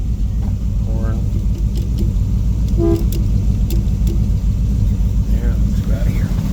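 Horn of a 1964 Ford Thunderbird honks in several short toots, one near the start, another mid-clip and more near the end, over a steady engine rumble inside the car.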